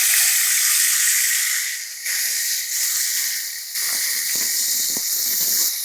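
Banana stem drops into hot oil with ginger garlic paste and sizzles, a loud, steady hiss close by with brief dips and small crackles, and no talking.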